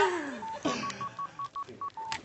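A mobile phone goes off with a melodic electronic ring of short, evenly spaced tones repeating over about a second and a half, following a brief swooping sound, loud and close with no talk over it.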